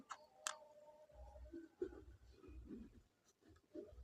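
A pen or marker writes an English grammar example, producing faint close scratches and taps with a sharp click near the start and soft irregular strokes afterward.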